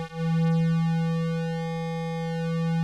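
A Korg Electribe 2 synth playing a sustained pulse width modulation tone, a steady buzzy held note rich in harmonics with a gently wavering timbre, loud and alone.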